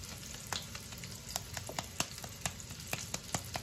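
Venison burger patties sear in melted butter in a hot pan, a steady close sizzle with sharp crackling pops spattering throughout.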